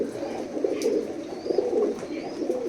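Soft, low cooing from pigeons of a golden imported bloodline in a loft, repeated in a gentle rhythm and heard close, with a few faint chirps and no talk.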